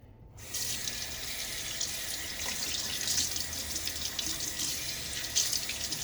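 Water starts running from a tap into a sink during wet shaving, a steady close hiss and splash after a brief silent start, continuing alone without talk.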